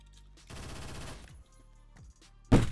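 Gunfire from an X95R rifle in the Phantom Forces video game comes as short bursts of rapid automatic shots with gaps between them, ending in a louder blast.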